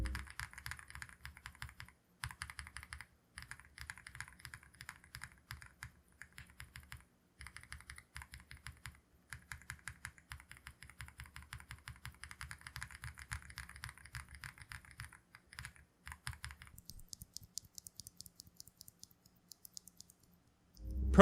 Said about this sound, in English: The Durock Sunflower T1 is a really nice switch.